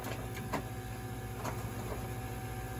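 Lochinvar Knight boiler running at startup in normal operation, a quiet steady mechanical hum with faint periodic ticks and clicks, no voices.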